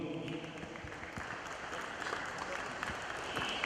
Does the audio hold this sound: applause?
yes